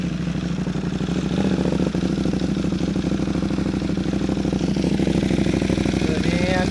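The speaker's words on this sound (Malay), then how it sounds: "untuk yang nak dengar bunyi exhaust bunyi exhaust motor ni" A CFMOTO 800NK motorcycle engine runs close by with a throaty, rumbling exhaust, middle muffler removed, idling steadily with a rapid, uneven pulse throughout.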